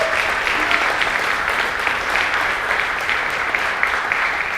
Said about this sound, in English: So if you'll just give them a round of applause,